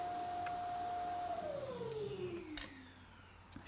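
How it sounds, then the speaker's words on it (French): A robot vacuum cleaner hums steadily at close range, its tone gliding downward as it heads off to its charging dock, with a few brief clicks and bumps along the way. "c'est l'aspirateur robot qui est parti se charger"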